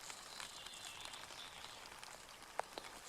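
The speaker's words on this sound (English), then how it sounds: "there's the rain hitting off the tent" Light rain patters on a tent during a sun shower while wild camping in Scotland, a faint soft hiss with scattered drop taps and a couple of sharper hits, close by and quiet.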